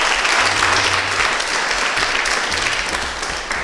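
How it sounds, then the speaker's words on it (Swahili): Audience applause at a secondary school gathering, a dense, steady wash of clapping from a crowd that fills the whole stretch at even loudness with no talking over it. "Piga makofi kwa ajili yako."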